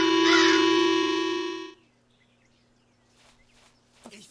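A crow gives one loud, drawn-out caw up close in the video game Easy Red, followed by near silence with faint rustling and a small click at the end.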